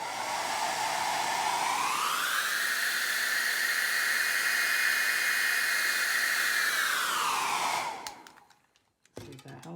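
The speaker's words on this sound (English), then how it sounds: "warm it a little bit with the blow dryer" A blow dryer warms protective film on an Omega Speedmaster watch, roaring steadily at close range, its pitch rising as it powers up, holding a loud whir, then winding down and cutting off.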